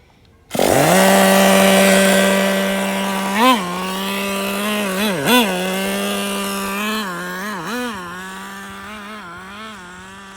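Nitro engine of a Traxxas Nitro Rustler RC truck running on cooler fuel after a carburetor adjustment, a loud buzzing whine that starts abruptly, holds steady, and dips and rises with several brief throttle blips.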